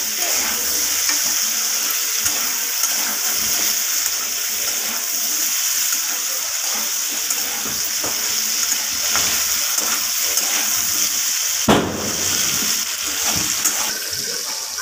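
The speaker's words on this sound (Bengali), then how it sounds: "লবণ আর হলুদটাকে দিয়ে আলুর সাথে মিশিয়ে নিয়ে ভালোভাবে আমি ভেজে নেব আলুগুলোকে।" Potato pieces frying in hot oil with salt and turmeric for a vegetarian curry, giving a steady, close sizzle with faint stirring and a brief clatter near the end.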